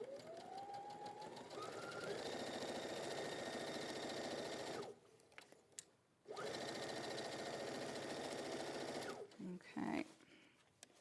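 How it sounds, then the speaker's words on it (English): Sewing machine stitching a quarter-inch seam, a steady, fast whirring hum that runs in two long stretches with a short stop between, while people talk over it. "we're just sewing this the 1/4 inch exactly the same way."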